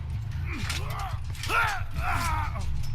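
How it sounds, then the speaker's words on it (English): Survivor rummaging through a box in Dead by Daylight, a busy stretch of creaking, ratcheting mechanical clicks and scraping squeaks over a low steady hum, moderately loud and continuous. "Your survivor will make a lot of sound while searching one of these boxes"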